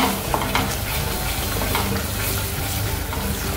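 Raw black-eyed peas and potato pieces go into cooked, sizzling masala in a pan, giving a steady close frying hiss with stirring scrapes throughout, no voices.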